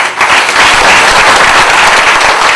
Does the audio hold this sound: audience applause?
yes